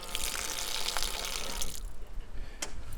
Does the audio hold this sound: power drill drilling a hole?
no